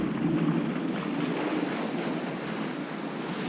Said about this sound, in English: It is really stormy and windy out on the lake, though. Like gale force winds and waves out there.